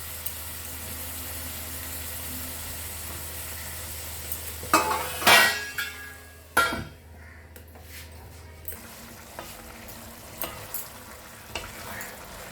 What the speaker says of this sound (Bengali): আমি মাঝে মাঝে নাড়াচাড়া করে দিচ্ছি